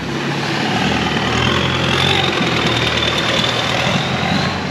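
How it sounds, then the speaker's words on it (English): A steady, rumbling long-tail boat engine drones continuously at close range on a river in Bangkok, with a knocking motor throb and broad noise throughout. "Sorry, I meant long-tail boat."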